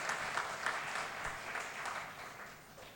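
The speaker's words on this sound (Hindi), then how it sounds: "एक बार राजेश जी के लिए भी तालियां बजाइए साहब" Audience at a Hindi comedy poetry gathering (kavi sammelan) applauds for a poet, a steady, moderately loud wash of clapping that holds for the whole stretch and eases slightly toward the end.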